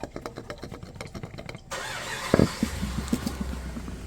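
A loose torque converter from a turbo big-block Plymouth Duster rattles metallically with sharp clicks and clatters, close up, first as quick repeated taps, then a louder burst of knocking and scattered rattles.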